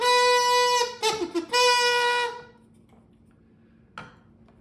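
A regular kazoo plays a loud, buzzy, reedy tone for about two seconds, with a brief wavering break in the middle, then falls quiet, with a small click near the end.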